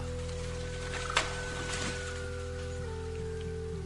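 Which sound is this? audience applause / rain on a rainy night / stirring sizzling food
rain on a rainy night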